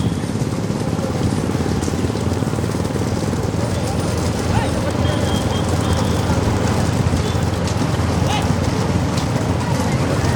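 Bulls pounding along a dirt track in a big bullock cart race at a village Mulaippari temple festival, a steady dense rumble of hooves and cart wheels under loud crowd shouting and talk throughout.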